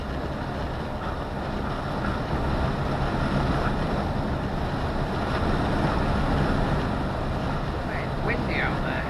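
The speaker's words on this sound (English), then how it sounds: "It's windy out there." Strong wind beside the East Lancashire Road (A580) buffets the microphone in a constant, roaring rumble that carries on without pause for the whole stretch.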